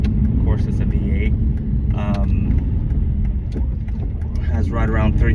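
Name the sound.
Aston Martin Vantage V8 engine during ride along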